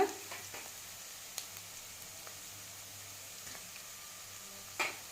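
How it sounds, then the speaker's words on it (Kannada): Onions and green chilies for methi chicken frying in a pan, a faint, steady sizzle with a few soft stirring clicks, quiet and close, no talking. "ಈಗ ಈರುಳ್ಳಿ ಲೈಟ್ ಬ್ರೌನ್ ಆಗೋವರೆಗೂ ಚೆನ್ನಾಗಿ ಫ್ರೈ ಮಾಡ್ಕೊಳ್ಳೋಣ"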